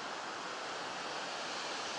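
Ocean surf washing onto the shore on a damp early morning beach, a steady broadband roar of breaking waves with salty wind, continuous and fairly faint with no distinct individual crashes.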